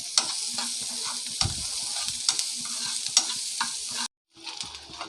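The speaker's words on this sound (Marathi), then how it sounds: "मी थोडंसं यामध्ये तेल घालून घेते। आता हे व्यवस्थित परतून घ्यायचं आहे।" Chopped onion sautéing in oil in a pan, a steady sizzle with a spatula scraping and tapping the pan in an irregular rhythm, close, briefly cut off near the end.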